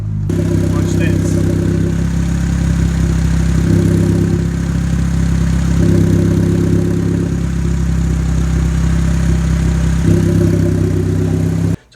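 Turbocharged Honda D15B engine with the wastegate held open runs steadily with a loud, droning mid-pitched hum and slight surges in load, sustained throughout at close range.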